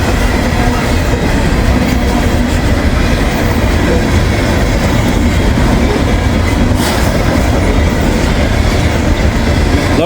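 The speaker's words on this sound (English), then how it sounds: "Loaded coal train coming out of West Virginia." A loaded coal train of hopper cars rolls past close by, a loud continuous rumble with steady clickety-clack from the wheels and no voices.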